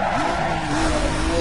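A car brakes hard in the racing game Need for Speed Most Wanted, its tires skidding and squealing loudly in one continuous screech over engine noise.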